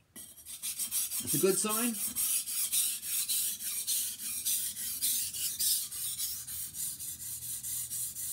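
A knife blade rasps steadily on a 400 grit whetstone in repeated strokes, close and fairly loud, with a brief quiet spoken remark near the start.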